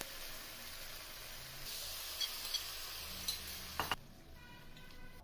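Fried cauliflower florets being stirred into manchurian sauce with ginger, garlic, soy sauce and ketchup in a pan, a steady close sizzle and hiss with a few light scraping clinks of a utensil against the metal.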